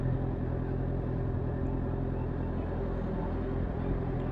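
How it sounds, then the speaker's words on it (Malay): Steady road traffic in the evening, cars rolling past in a continuous low rumble of engines and tyres, moderately close with no clear individual pass-bys standing out. "Banyak juga kereta balik petang nih."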